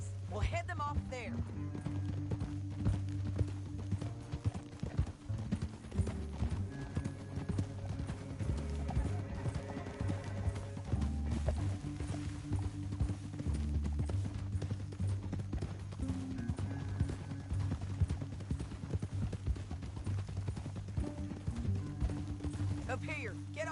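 Horses' hooves clip-clopping at a steady gait in the video game Red Dead Redemption 2, a continuous close rhythm of hoofbeats running through the whole stretch, with a soundtrack hum and occasional voices underneath.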